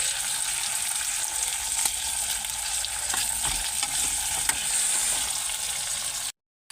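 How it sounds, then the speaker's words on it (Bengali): Onions fry and get stirred in a pan, a continuous loud sizzle with scattered scraping ticks from the stirring, cutting off abruptly near the end. "পেঁয়াজটা দিয়ে পেঁয়াজটা ভালো করে নাড়িয়ে নেব।"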